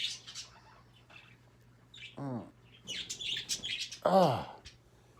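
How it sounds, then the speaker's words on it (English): Birds chirping and tweeting in short bursts, with a couple of louder, squawk-like calls standing out near the microphone against a low steady hum. "Motherfucking birds, dude."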